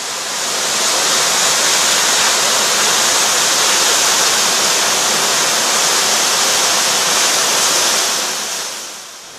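A waterfall in the mountains of Voio near Kozani, Greece, drops from a great height onto wild rocks, making a loud, continuous rushing roar that stays steady, then eases off slightly at the end.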